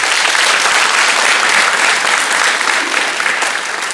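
A church congregation claps together during a Sunday morning service, a dense and loud sustained applause that holds steady with no voices over it.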